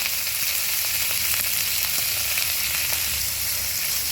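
Ridge gourd peels fry in hot oil with a steady, dense sizzle that stays loud and even throughout, with faint stirring scrapes underneath and no voices.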